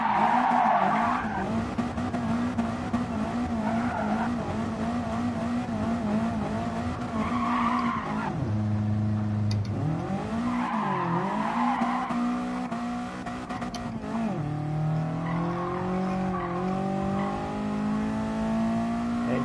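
A car drifting in a PS4 racing video game screeches with long, loud tire skids over a droning, shifting engine that revs and drops in pitch throughout.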